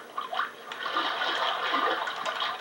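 Water sloshes and splashes in the Seaman tank in the Sega Dreamcast game, a short burst of splashing that settles into a steady watery rush, close and moderately loud with no talk.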